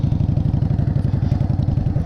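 A heavy cruiser motorcycle rumbles through a slow U-turn practice run, its engine throbbing in a loud, steady, closely miked low pulse with a rapid even beat and no voices.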